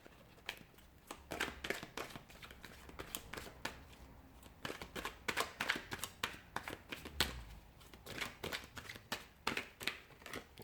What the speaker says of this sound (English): we're going to go ahead and give the cards a shuffle